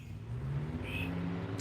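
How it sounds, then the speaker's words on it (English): An airboat's engine and big propeller drone steadily nearby, a continuous low, engine-like roar holding at constant loudness with a brief higher whine partway through. "That noise you hear is an airboat."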